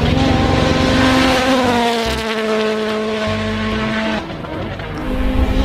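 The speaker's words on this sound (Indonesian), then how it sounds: "Yang ini ada mobil balap." A toy race car whirs with a loud, buzzing motor whine that slides down in pitch, holds steady, then drops away before revving again, close by.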